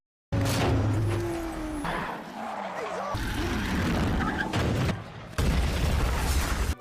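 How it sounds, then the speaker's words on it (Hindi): A car explosion in a film after brake failure booms loudly with sudden broadband bursts and roaring debris, mixed with film sound effects and a voice talking in Hindi over it. "अगले ही पल उसकी कार में बड़ा धमाका हो गया"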